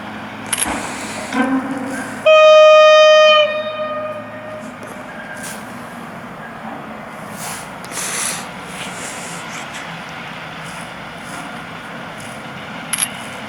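A Cargo Unit locomotive pulls a train past Łowicz Główny station, opening with a loud horn blast around two seconds in, followed by the sustained rumble and clatter of the passing train fading steadily into the distance.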